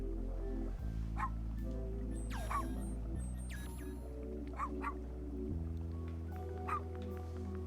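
A dog in the video game Unsighted gives several short yips and whimpers over looping synth game music, with the small animal sounds scattered and fairly faint beneath the steady melody.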